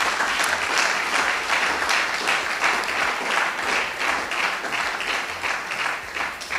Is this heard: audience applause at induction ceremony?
yes